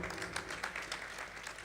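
Applause from a seated audience at an evening musical recital, a steady wash of many hands clapping at moderate level throughout, fairly even with no single claps standing out.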